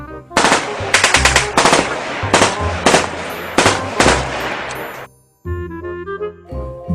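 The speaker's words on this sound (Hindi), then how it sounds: "ये खिलौना नहीं, असली स्टेन गन है।" An animated Sten gun fires in quick automatic bursts, loud sharp rattling volleys separated by brief pauses, followed by ringing, tonal cartoon effects after the shooting stops.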